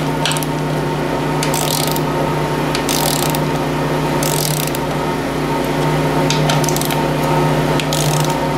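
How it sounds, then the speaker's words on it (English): Ratchet of a wrench working oil pan bolts on a Ford 800 tractor, short clicking bursts repeating at close range over a steady mechanical hum; no talking. "You really got to feel for this click on this wrench too"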